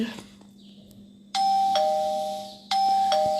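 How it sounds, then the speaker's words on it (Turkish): A Minecraft video game doorbell chimes twice in a row, each ring a clear two-tone ding-dong, bright and close, with a soft hum underneath. "Zil çaldık giriyoruz"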